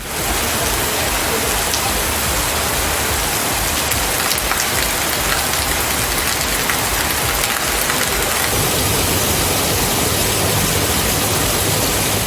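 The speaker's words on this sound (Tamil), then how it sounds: "கொடைக்கானல் மற்றும் அதன் சுற்றுவட்டார பகுதிகளில் 1 மணி நேரத்திற்கு மேலாக கனமழை கொட்டியது." Heavy rain pours down in Kodaikanal as a dense, continuous roaring hiss of drops hitting surfaces, loud and unbroken for the whole stretch with no voices.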